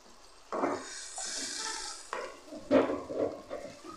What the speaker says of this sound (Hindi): मसाले को थोड़ा सा मीडियम लो फ्लेम पर रखकर अच्छे से पकाएंगे ताकि ये भुन जाए